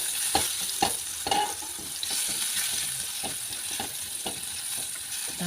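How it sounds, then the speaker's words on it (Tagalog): Food sautéing in a frying pan with a steady sizzle, punctuated by repeated scraping and stirring strokes of a utensil against the pan, close and continuous. "Magisa na tayo. Gisa-gisa tayo ng"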